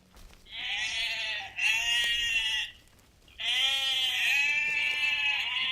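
Goats bleat loudly nearby in two long, wavering calls separated by a brief pause.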